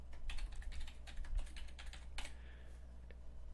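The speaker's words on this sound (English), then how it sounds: "I will just type in my same credentials that I have on my website." Quick bursts of typing on a computer keyboard as login credentials are entered, soft close clicks over a low steady hum, trailing off into quieter pauses.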